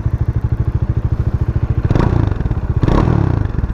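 A Bajaj Dominar 400 motorcycle in neutral being self-started, its steady rapid idle putter joined by two louder clattering surges from the starter and engine catching, close and loud.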